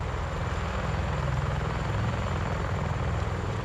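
A CH-53E Super Stallion heavy-lift military helicopter roars with a dense, continuous rotor and turbine drone. The pulsing low thump stays loud and steady throughout, with no voices.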